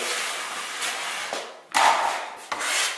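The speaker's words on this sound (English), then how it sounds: "he will add more mud or run his knife pressing a little harder, try to squeeze more mud out of it" A drywall knife wipes joint compound over a flat seam, producing broad close scraping and rubbing strokes, a long smooth pass followed by shorter firm swipes.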